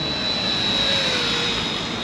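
An Eachine E110 tiny toy RC helicopter flies close by, giving a steady high-pitched motor whine with broad rotor hiss that holds even and loud throughout.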